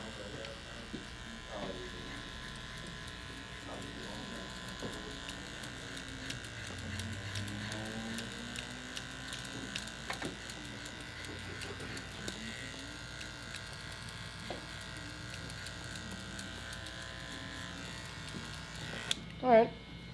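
Electric hair clippers fitted with a 2-guard buzz steadily through a haircut, a close continuous hum with small pitch shifts as they pass over the head, ending with a brief louder burst.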